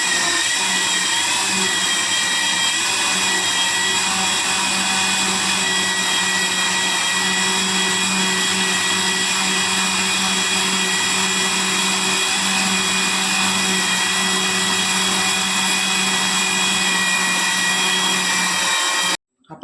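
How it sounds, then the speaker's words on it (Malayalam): A mixer grinder blends cold coffee made with Bru and sugar in its jar, a loud, steady high-pitched whir running close and unbroken for nearly twenty seconds before cutting off abruptly. "നമുക്കിനി മിക്സിയുടെ ജാർ അടിച്ചിട്ട് ഇനി അടിച്ചെടുക്കാം"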